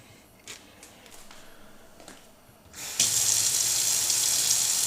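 Kitchen tap turned on to rinse vegetables, a few soft handling clicks first, then a steady, loud rush of running water filling the sink.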